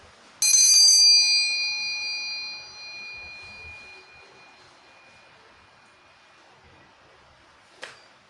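A single bright bell strike rings out and slowly decays over a few seconds, followed by a short sharp tap near the end.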